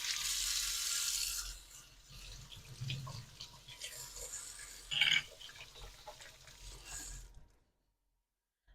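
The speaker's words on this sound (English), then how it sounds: "I'm going to put this behind you at the sink and wash my hands" Water runs from a kitchen sink tap while hands are washed, a splashing stream that varies as the hands move through it, then shuts off abruptly, leaving near silence at the end.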